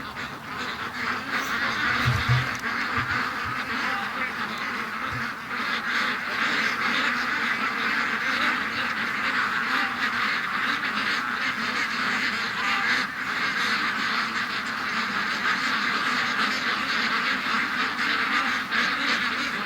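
A flock of ducks quacks loudly and continuously in a yard near a swamp, their calls overlapping in a dense, unbroken chorus.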